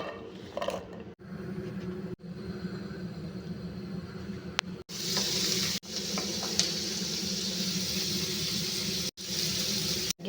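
Bean sprouts sizzle and fry loudly in a pan, a steady close crackle broken by a few brief pauses as the sprouts are stirred.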